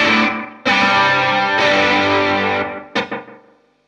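Electric guitar run through overdrive, chorus and delay pedals, playing sustained distorted chords with a shimmering modulated wash, then a few short struck notes with trailing echoes fading out.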